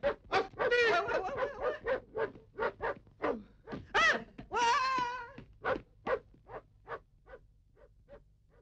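A dog barks repeatedly in an irregular run of loud, close barks mixed with drawn-out whining howls, fading to softer yaps at the end.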